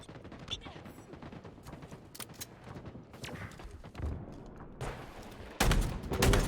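Shotgun blasts ring out during a competitive multiplayer video game match, several sharp bursts with the loudest near the end, layered under excited caster commentary and background game noise.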